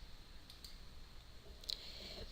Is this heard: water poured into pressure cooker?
no